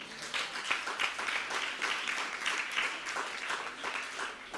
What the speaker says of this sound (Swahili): Pastor Rusi, tumpigie makofi